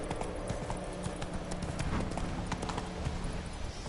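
The horse Roach in The Witcher 3 trots along with a continuous, rhythmic clip-clop of hooves, close and fairly loud over a dense ambient game soundscape.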